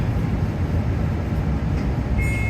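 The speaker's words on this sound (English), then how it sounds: "Then we've got one tram here turning up," A tram arriving in Nottingham, heard as a steady low rumble of rail and motor noise with a faint high tone near the end, continuous and moderately loud.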